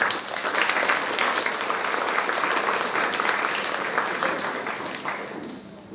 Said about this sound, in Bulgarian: Аплодисменти за госпожа Спасова